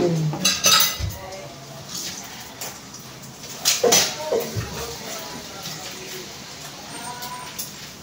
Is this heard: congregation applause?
no